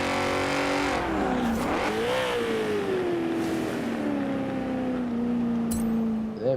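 A racing car engine in Forza Horizon 4 revs loudly and continuously, its pitch climbing and dropping as it shifts gears, with no one speaking.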